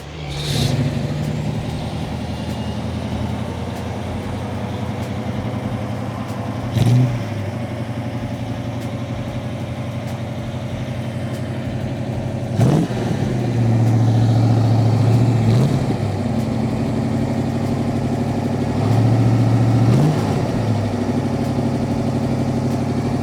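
A 1969 Ford Mustang Mach 1 with an S-Code 390 V8 settles into a loud, throbbing idle close by, with several sharp blips of the throttle swelling the rumble before it drops back each time.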